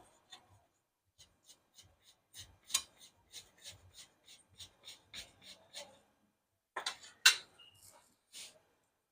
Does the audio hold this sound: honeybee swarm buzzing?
no